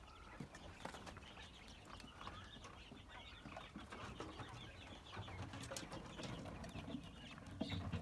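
Chinese quails kept indoors call in short, faint chirps and clucks, repeated irregularly against a quiet background.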